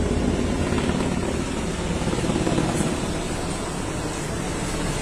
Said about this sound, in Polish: Zobaczcie, jak nisko leci helikopter.